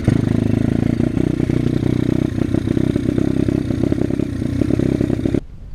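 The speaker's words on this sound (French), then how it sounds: "Et du coup ma moto elle déconne" A small motorcycle engine that has lost a screw runs rough and jerky, loud and close, with uneven clattering pulses and surges before cutting off abruptly near the end.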